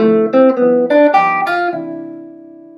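Jazz guitar line over a ii V7 I progression, a short clean melodic phrase of several plucked notes that ends on a held note fading out, with no talking.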